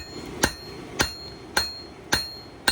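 High carbon steel is hammered on an anvil while forging an herb chopper, five sharp ringing blows evenly spaced about half a second apart, close and clear over a quiet background.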